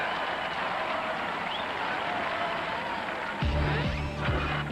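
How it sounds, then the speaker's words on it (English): Studio audience applause for the competing robot combat teams, a dense sustained wash of clapping and crowd noise, joined near the end by a heavier low thumping burst. "Let's have a great round of applause for all these teams"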